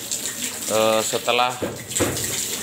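Water is splashed across the floor to clean a swiftlet house, a wet rushing wash heard under a man's speech.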